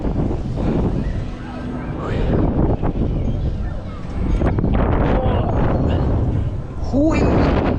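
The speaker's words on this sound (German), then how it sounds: "Das war ein Wind!" Strong wind gusts roar over a theme park boat ride, a steady broadband rush with people exclaiming loudly throughout.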